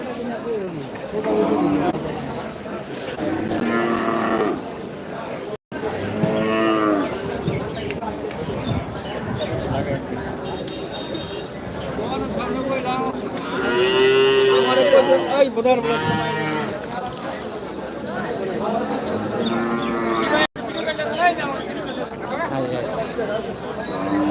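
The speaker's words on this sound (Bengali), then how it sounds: "এই পাশটাতে ছোট ছোট" Young calves moo several times amid a busy village livestock market in Paragram, with people chattering and calling all around.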